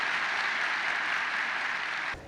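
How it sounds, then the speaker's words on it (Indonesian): An auditorium audience at a university campus event gives a sustained round of dense applause that fades out abruptly near the end, with no talk over it. "tepuk tangan sekali lagi untuk kita semua"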